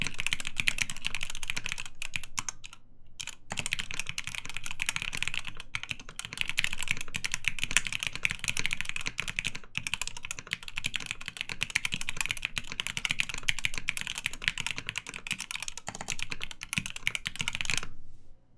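Typing on a Matrix Abel mechanical keyboard with lubed FFF linear switches, a long continuous run of close, crisp, even keystrokes with a brief pause early on, heard alone.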